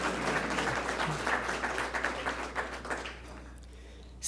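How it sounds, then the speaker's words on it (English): Audience applause at a Cook County Treasurer's public address, a dense burst of many clapping hands that thins out and trails off into quiet after about three seconds. "you should applaud"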